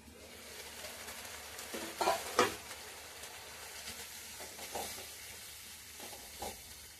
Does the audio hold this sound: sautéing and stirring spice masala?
yes